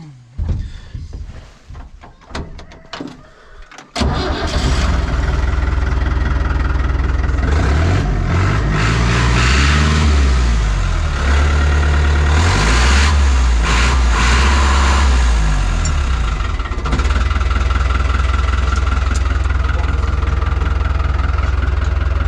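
After a few seconds of clatter, a heavy Fiat 640 tractor engine roars up close, revving repeatedly so its deep pitch swells and falls before settling.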